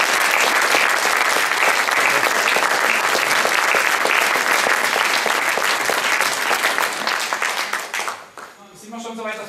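An audience applauds after a remote Disklavier piano improvisation at a piano chat concert, loud, thick clapping sustained for about eight seconds before cutting off into a brief voice.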